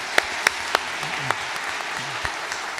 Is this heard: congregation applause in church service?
yes